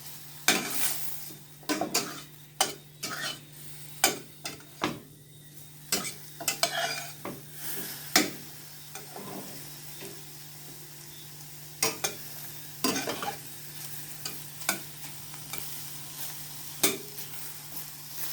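Vegetables for Jamaican-style chicken chop suey cook in a pan with a low sizzle, punctuated by irregular sharp clatters of a utensil stirring against the pan; close, with no talk.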